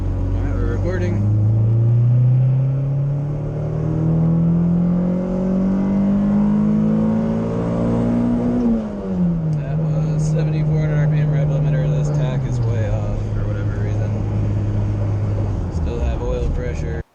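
A turbocharged Honda Civic fitted with an eBay turbo kit pulls hard through the gears, its loud engine note climbing steadily, dropping at a shift, then climbing again before easing off, heard from inside the car.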